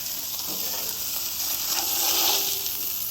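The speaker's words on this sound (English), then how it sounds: "All right, starting to brown up the buns." Burger buns browning on a Blackstone Culinary 17-inch single griddle give off a steady, close sizzle with soft hissing crackle, no voices over it.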